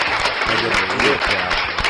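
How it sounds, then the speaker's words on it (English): Clapping at a casual indoor broadcast, brisk and fairly close, with chatter and a low thumping rhythm beneath it. "I give a real clap"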